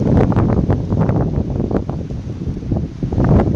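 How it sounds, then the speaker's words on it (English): Strong wind buffets the microphone with a loud, continuous rumbling roar and gusty surges throughout, no voices present. "this wind is getting strong"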